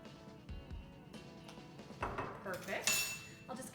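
Spoon stirring overnight oatmeal in a bowl gives a few light clinks and scrapes against the dish, with brief talk under them.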